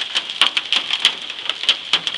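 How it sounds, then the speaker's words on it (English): Hailstones strike a parked car in a storm, making rapid, irregular sharp ticks and clacks over a light patter of rain. "Oh God, it's still hailing."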